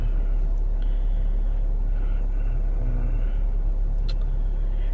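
Car driving on a road just after pulling out of a driveway, heard from inside as a steady low rumble with road noise and a few faint clicks, no talking.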